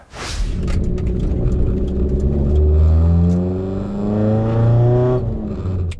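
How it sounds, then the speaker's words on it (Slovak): A BMW E30 M3 engine with an aftermarket, non-stock exhaust revs up and down in several loud swells, heard close from inside the cabin as the car accelerates on a track, with no talking. "Ako môžete počuť, ten hluk je tu naozaj že dosť vysoký, tak predpokladám, že ten výfuk nie je sériový."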